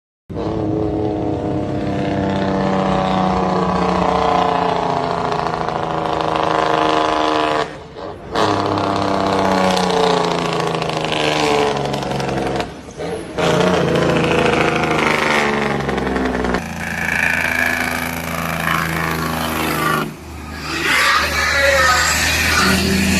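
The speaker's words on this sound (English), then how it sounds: "that rapid fire bark you just heard is the engine work against itself to slow the truck down" A Cummins diesel truck engine with a Jake brake barking as it holds about 40 tons on a long downhill grade, a loud rapid-fire staccato roar sustained in long pulls, broken by a few brief gaps and shifts.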